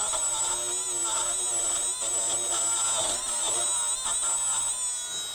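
A Milwaukee M12 brushless rotary tool runs at low RPM on a bolt, giving a steady, fairly quiet high-pitched buzz that holds continuously throughout, close by with no speech.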